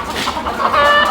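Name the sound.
hens clucking on desi poultry farm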